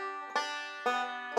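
A solo five-string banjo plays a Scruggs-style forward-reverse roll that starts on the fifth string. Three bright plucked attacks ring out clearly, each with sustained ringing overtones, and no voice is heard.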